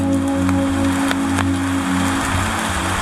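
Steady rain hisses on surfaces nearby, a dense even wash with a few sharper drop ticks over a constant low hum.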